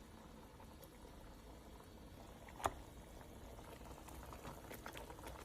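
Peppers with yogurt and feta cheese simmer in a pan over low heat, giving a quiet, steady bubbling throughout with one brief sharp clink partway through.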